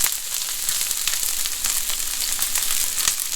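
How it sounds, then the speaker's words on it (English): Peas stir-frying in a hot pan for chow fun noodles, a steady bright sizzle with crackling pops running throughout, close and fairly loud with no talking. "So this is all stir fried. It cooks very fast."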